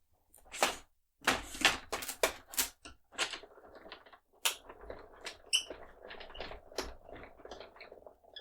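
A manual die cutting machine cranks a metal die through card stock, producing a series of sharp mechanical clicks and clunks in irregular bursts, close and fairly quiet with no talking.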